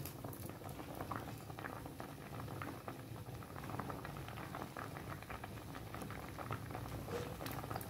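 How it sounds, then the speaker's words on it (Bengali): Lentils and green tomato boil in a pot for sour dal, a steady, soft bubbling and popping simmer that carries on evenly throughout. "দেখুন টমেটোটাও সেদ্ধ হয়ে গেছে, ডালটাও সেদ্ধ হয়ে গেছে।"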